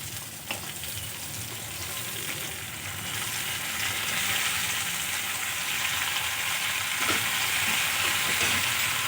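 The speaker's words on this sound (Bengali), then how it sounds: "এবার আমি পেঁয়াজকলিগুলো দিয়ে দেবো।" Onion stalks (peyaj koli) are added to a pan of frying cauliflower, and a continuous oily sizzle builds and holds steady, with faint stirring clicks.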